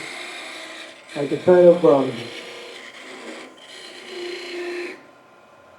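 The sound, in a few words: negative rake scraper cutting end grain wood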